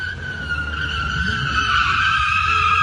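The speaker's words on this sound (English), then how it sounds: "Oh, he's dragging dude's car" A car being dragged along a New York City street, its tires skidding and squealing in a steady, loud screech that continues throughout under a low rumble of vehicle noise, with no talking.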